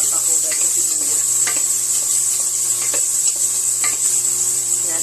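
Onions sauté in a pan for sinigang na bangus sa miso, a loud continuous close sizzle with occasional utensil stirs and taps against the pan.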